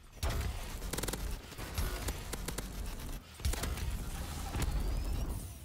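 Dense, rapid gunfire from a weapon in the video game Call of Duty Advanced Warfare, loud bursts of shots in quick succession with a short lull midway before firing resumes, with no talk over it.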